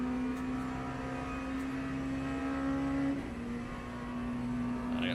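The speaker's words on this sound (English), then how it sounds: "I got two more hypercars approaching me" Hypercars approach in the racing game Le Mans Ultimate: a steady engine drone with a sustained tonal whine and a faint rising note from cars closing in behind, with no talking.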